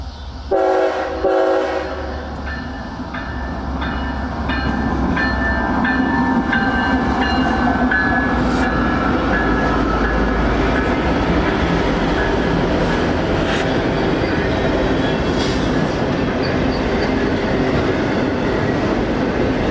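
A long CSX freight train of auto racks rumbles steadily past up close, wheels clattering and squealing over the rails, after a brief horn blast at the start.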